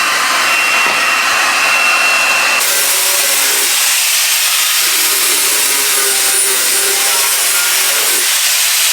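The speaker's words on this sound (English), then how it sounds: "just going to heat this up with a heat gun" Heat gun blowing on a steel panel: a loud, steady rushing blast of air lasting throughout, with a slight shift in tone partway through as the gun moves.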